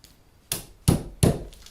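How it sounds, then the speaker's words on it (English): Three sharp, light taps of a screw or nail point on glazed tile, marking a drill hole. Each is a crisp, close click with short pauses between. "I just mark the hole with a very tiny little tap"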